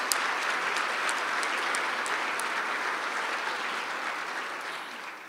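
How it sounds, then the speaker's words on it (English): A crowd at a Chicago leadership prayer breakfast claps for the staff, sustained dense applause of many hands that holds steady and tapers slightly at the end, with no talking. "let's give the staff a big round of applause"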